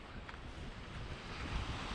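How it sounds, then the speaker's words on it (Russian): Waves washing onto a shore along the Gulf of Finland coast near Saint Petersburg, a soft continuous roar of surf with wind noise, distant and steady, no voices. "Слышите, как шумит волна,"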